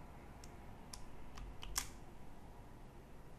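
Keyboard shortcut keys pressed on a computer keyboard while editing an NGINX config, a handful of quiet, separate clicks spaced through a faint, hissy background with no talking.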